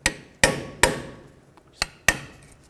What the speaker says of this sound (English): I want to pull this cap off. I'm just going to use a pry bar and a hammer.